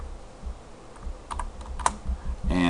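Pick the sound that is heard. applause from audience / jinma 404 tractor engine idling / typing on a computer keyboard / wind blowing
typing on a computer keyboard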